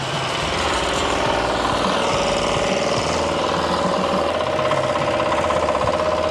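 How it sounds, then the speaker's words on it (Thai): A ride-on rotary tiller's engine revs while it churns farm soil, a loud, steady, rough chugging roar that runs unbroken and close throughout. "เร่งเครื่อง"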